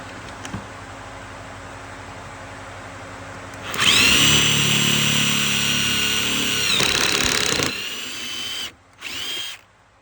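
A power drill drives pocket screws into a wooden board for a DIY clothes rack, a loud whirring burst of about three seconds, then a shorter run and brief stuttering pulses near the end.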